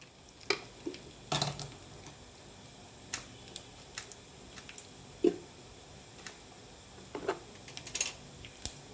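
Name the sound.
tempering spices frying in oil for potato chutney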